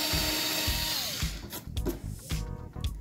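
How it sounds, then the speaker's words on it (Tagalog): An INGCO 8V cordless drill spins in reverse, backing out of a freshly bored hole. A steady motor whine fills the first second, then breaks into several short, close bursts of drilling. "Tapos, drill natin pataas."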